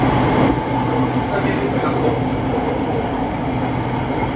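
An SRT Red Line electric train passes in the opposite direction on the elevated line from Rangsit, a steady broad rumble of rail cars heard from inside a moving train.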